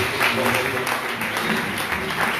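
A Sunday church congregation applauds in steady, sustained clapping that fills the room, with voices mixed in underneath.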